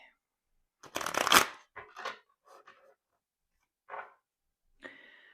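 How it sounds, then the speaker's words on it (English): Deck of cards being shuffled and cut by hand, a sharp riffling burst followed by several softer separate slaps and rustles with quiet gaps between, close and fairly faint. "I'm gonna go ahead and shuffle and cut the deck in 3/3."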